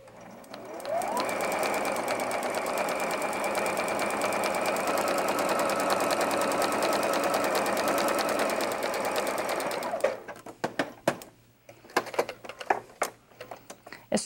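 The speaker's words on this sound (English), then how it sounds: "so I can just sew my 1/4 inch seam on all 4 of those corners" A sewing machine stitches quarter-inch quilt block seams in a steady whirring run of about nine seconds, then stops with a few clicks and taps, heard alone without talk.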